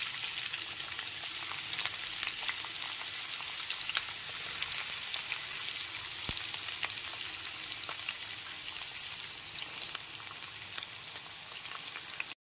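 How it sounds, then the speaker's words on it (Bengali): Chopped onions fry in oil in a pan over a low-to-medium gas flame, giving a steady, close, even sizzle with faint crackles throughout and no talk. "সমস্ত পেঁয়াজ কুচিগুলো দেওয়ার পর গ্যাসের ফ্লেমটা লো টু মিডিয়ামে রেখে একটু সময় নিয়ে পেঁয়াজগুলোকে লাল করে ভেজে নেব।"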